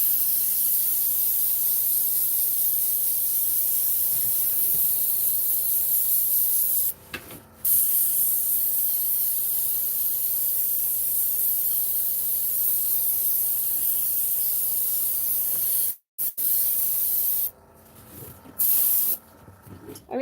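A steady, close airbrush hiss of paint spraying during a craft session, continuous for long stretches with a few brief pauses near the end.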